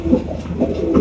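Blue magpie pouter pigeons coo softly in a loft, low throaty murmurs repeating close by against a muffled background.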